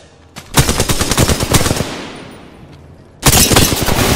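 Video game gunfire comes as loud, close automatic bursts: a long rapid volley that trails off into a decaying echo, then a second dense burst right after it.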